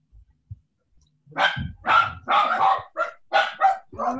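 A dog barks repeatedly nearby, a run of loud, rhythmic barks following a few faint soft taps.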